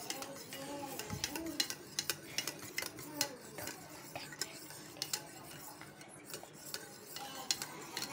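A coffee mixture for cold coffee is stirred quickly in a cup or bowl, a rapid run of light clinking and tapping strokes, fairly faint and close, with a soft thud early on.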